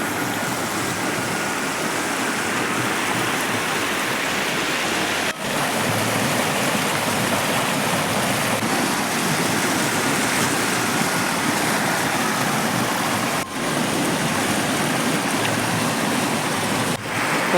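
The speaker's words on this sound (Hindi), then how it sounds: "अब आपके लिए लेके आया हूँ बिल्कुल ही स्वच्छ पानी गांव की सुंदर नदी का" A clear village river flows after a flood, giving a steady, loud, continuous rush of water with no talk.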